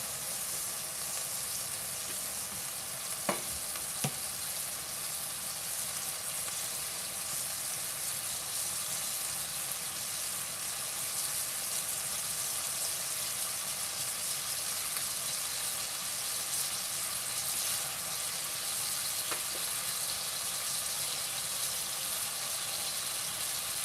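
Bacon pieces rendering in a pan give a steady, even sizzle and hiss that carries on unbroken at close range, with a couple of faint clicks and no voices.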